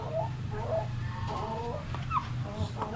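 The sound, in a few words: Brahma chicken clucking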